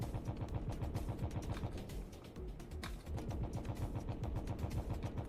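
A video game autocannon fires incendiary rounds in a steady rapid rhythmic stream of heavy thuds with a mechanical clatter, continuous and somewhat distant throughout.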